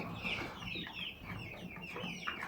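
Hens and chicks on a Turkish village hobby farm cluck and chatter close by, a busy overlapping run of short calls with a few sharper squawks, steady throughout.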